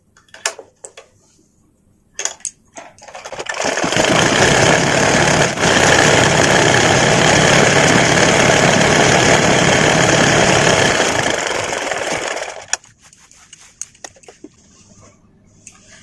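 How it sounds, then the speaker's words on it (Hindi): A sewing machine runs continuously for about nine seconds, stitching a petticoat waistband, its steady mechanical whir starting and stopping abruptly between quiet handling clicks. "इस पर एक सिलाई और मार दीजिए थोड़ा हटके"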